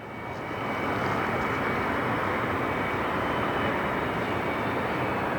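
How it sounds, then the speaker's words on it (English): A Northwest Airlines Airbus A320, an old airframe likely fitted with CFM engines, roars steadily and loudly as it comes inbound at Detroit Metro airport, building over the first second into a sustained broadband rush with no speech. "Northwest inbound from Jacksonville, Florida. In an old as dirt A320."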